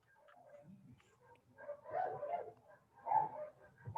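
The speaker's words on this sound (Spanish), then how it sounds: "Por ahí siento un perrito" Small dog giving soft yips, whimpers and short barks indoors, faint and intermittent with brief louder bursts, alone without talk.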